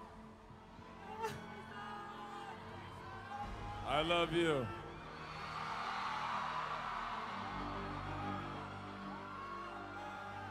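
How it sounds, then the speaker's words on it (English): A crowd at an Aquaman fan event in Manila whoops and cheers loudly, with a sharp burst of yelling followed by a sustained roar of noise. Voices speak over the crowd. "And so the crowd goes wild."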